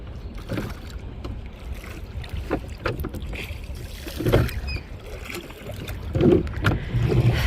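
Oars dip and splash as a rowing boat moves across Lake Bled, with a series of close, irregular watery strokes and knocks over a steady outdoor background.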